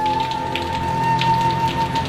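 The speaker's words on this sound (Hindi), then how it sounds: "अब भाई बारिश भी इतनी तेज पड़ रही है" Heavy rain pours outdoors as a loud, steady hiss that lasts the whole stretch, with a faint constant tone and a low hum underneath and no voices.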